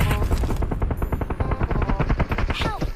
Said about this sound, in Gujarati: બોમ્બ આવ્યો.